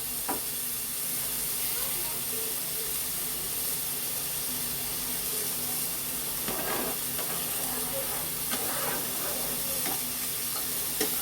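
Onions frying in oil for chicken curry are stirred now and then, a steady hiss and sizzle with occasional scraping strokes of the spoon, close and continuous.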